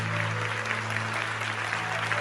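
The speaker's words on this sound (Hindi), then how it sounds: "जितनी तालियां बजा सकते हैं उतनी जोरदार तालियां." A church congregation claps loudly and steadily in sustained, dense applause, with a low hum running underneath and no talking over it.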